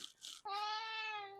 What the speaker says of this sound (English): Hey kitty, I can't have you meowing